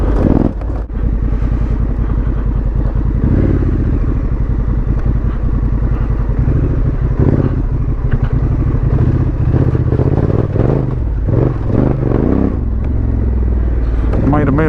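A Honda Africa Twin motorcycle rides off-road with a loud, close engine rumbling and revving unevenly over rough ground, mixed with clattering and wind, with a rider's voice now and then.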